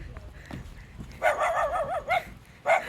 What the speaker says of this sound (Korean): 짖게 해볼까요? 짖는다.